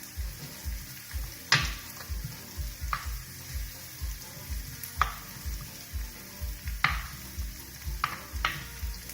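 Chickpeas sizzle and fry in a pan as they caramelize, a steady close sizzle broken by regular stirring scrapes and a few sharp utensil taps.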